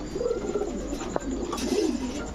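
Saharanpuri pigeons coo steadily in low, rolling murmurs, several birds overlapping close by on a pigeon farm, with one brief sharp click partway through.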